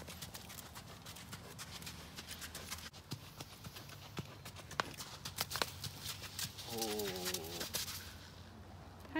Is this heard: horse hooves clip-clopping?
yes